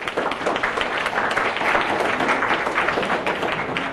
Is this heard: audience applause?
yes